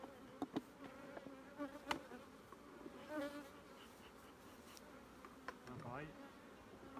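Honeybees hum in a low, steady buzz around an open hive during an acacia honey harvest, with scattered knocks and clicks and faint voices nearby.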